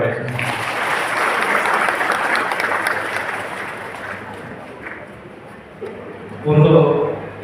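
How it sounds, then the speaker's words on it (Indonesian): Applause at an instructor exam ceremony for Ling Tien Kung instructor candidates, a broad wash of clapping that gradually thins, with a voice speaking near the end. "Tepuk tangan untuk Bapak Ibu semua."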